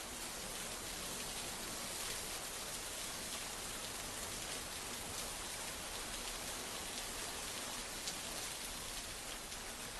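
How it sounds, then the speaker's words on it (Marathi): Heavy monsoon rain pours down on flooded Mumbai streets in a dense, steady hiss that stays constant throughout, with no voices. "मुंबईमध्ये मुसळधार पाऊस सध्या सुरू आहे।"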